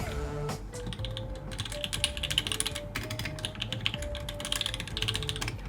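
Rapid, steady key clacks from a custom mechanical keyboard fitted with H1 linear switches, typed continuously at close range with no talk.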